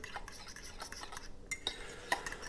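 A utensil stirs chaffle batter made with finely shredded mozzarella in a bowl, giving soft repeated scraping and tapping strokes. Sharp clinks against the bowl mark the stirring, which is close but quiet, with no voices.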